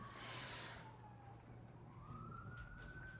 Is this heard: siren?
yes